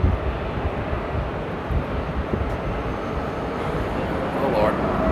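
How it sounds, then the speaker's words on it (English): A Boeing 777-200 takes off at Amsterdam airport, its broad jet-engine rumble running steadily throughout, while people talk over it. "Well, there's the next takeoff. That's a 777-200."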